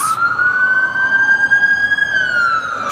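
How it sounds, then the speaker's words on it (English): A loud, steady siren tone from a passing fire truck, ambulance and sheriff cars holds and slowly rises in pitch, close and sustained without any voices. "Look like a fire truck, an ambulance, and a bunch of sheriff cars."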